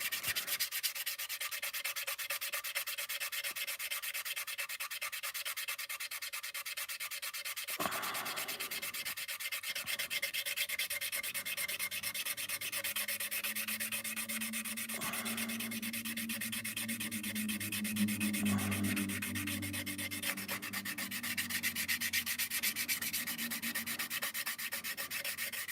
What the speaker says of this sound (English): So yeah, you're going to see a lot of sanding tonight,